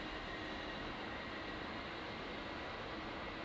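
Left engine of an A-10C jet spooling up in the flight simulator DCS World, a steady broad rushing whine and roar that holds constant throughout at moderate level, with no talk.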